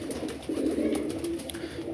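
Steady, low pigeon cooing continues throughout, a soft rolling murmur from several birds nearby.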